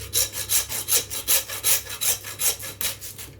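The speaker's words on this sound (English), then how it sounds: "This is my old butcher's saw." An old butcher's saw cuts the knuckle off a lamb leg in quick, even back-and-forth strokes, about a dozen loud rasping pulses close by with no talking.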